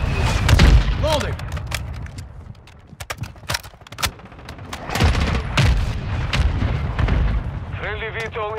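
Booming mortar strikes land in a battlefield video game, several heavy blasts and thuds spread over a few seconds amid scattered gunfire, with a voice briefly speaking near the end.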